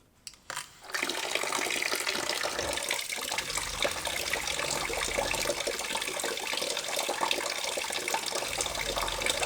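Water gushes steadily from a tap fed by a Shurflo Trail King 7 pump in an overlanding water system, a loud continuous rushing flow after a few brief knocks at the start.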